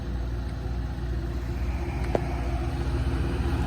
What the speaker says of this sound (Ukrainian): Мотор працює просто часи. Нічого не шумить, не гуде